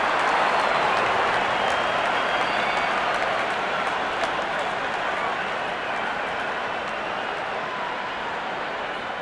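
A virtual stadium crowd in Real Cricket 24 roars for a six in an India vs Australia T20 match. The broad, steady wash of cheering and applause holds loud and unbroken throughout.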